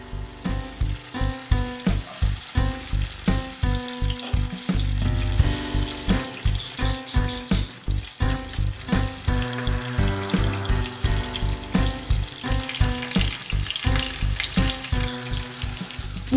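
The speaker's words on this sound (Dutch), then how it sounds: "Ook deze keer laat je ze op matig vuur een paar minuten bakken." Steady sizzling of aubergine frying in a pan over moderate heat, with rhythmic scraping and clinking as it is stirred, no voices.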